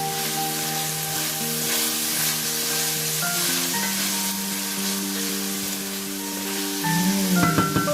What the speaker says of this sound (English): And now I will add all my spices all at once. And just stir.